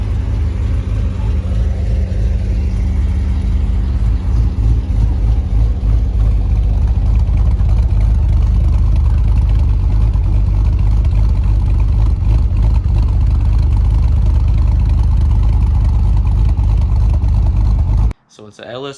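A cammed LS3 V8 in a Cutlass Supreme drift car idles with a loud, lumpy, deep rumble, close and steady for most of the stretch before cutting off near the end, with someone talking over it.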